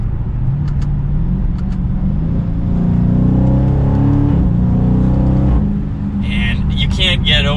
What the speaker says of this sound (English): Can't get over how good that V8 sounds.